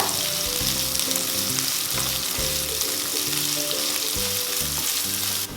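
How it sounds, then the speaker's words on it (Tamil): Three large chopped onions sautéing in a pan for chow chow kootu, a loud continuous close sizzle with a recurring low tonal hum pulsing underneath and no talking. "3 பெரிய வெங்காயத்தை கட் பண்ணி ஆட் பண்ணிக்கோங்க. வெங்காயத்தை நல்லா வதக்கிக்கோங்க."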